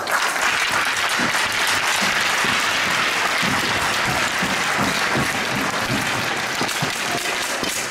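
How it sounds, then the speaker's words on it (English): Steady, dense applause from a large crowd at a minor hockey community event in Glace Bay, honoring the program's volunteers, executive and coaches; loud and continuous throughout with no talk over it. "they really do deserve a, a round of applause, please"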